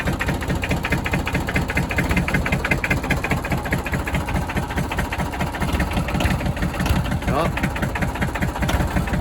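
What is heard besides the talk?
Massey Ferguson diesel tractor engine cold starting and idling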